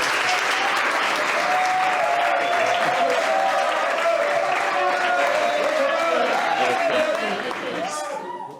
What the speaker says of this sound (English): Please, we can clap better.